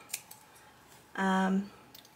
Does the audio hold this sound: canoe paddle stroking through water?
no